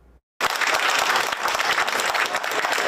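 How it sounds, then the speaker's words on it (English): Loud, dense applause from a crowd of more than 100 people at a town board special meeting, bursting in abruptly after a brief silence and holding steady as continuous clapping. "More than 100 people applauded a unanimous reversal"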